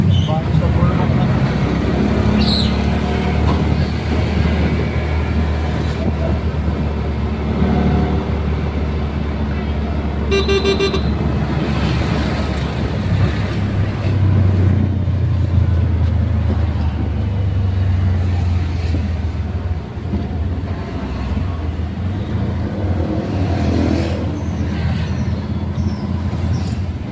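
Congested road traffic near UP Los Baños heard from inside a vehicle, with a steady loud rumble of engines and road noise, a brief car horn toot near the middle, and people talking at times.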